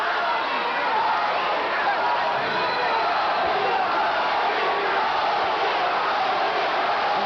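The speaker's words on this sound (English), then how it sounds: "The crowd chants Tony." A boxing arena crowd at a Canadian national super welterweight title fight roars steadily and chants in unison, a dense wall of voices filling the whole stretch without letup.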